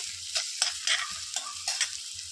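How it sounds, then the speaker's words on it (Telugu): Garlic, green chillies and onions fry in a pan for cabbage Manchurian, with soft sizzling under quick, rhythmic stirring scrapes, close and fairly quiet. "కొంచెం పచ్చిమిరపకాయలు కొంచెం ఉల్లిపాయలు వేసుకొని వేపుకోవాలండి ఈ క్యాబేజీ మంచూరియాకి"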